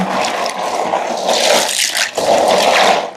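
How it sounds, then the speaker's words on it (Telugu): Tap water pours and splashes steadily into a container close by, with a brief dip midway before the rush resumes. "ఇదిగోండి కొన్ని ట్యాప్ వాటర్ అనమాట"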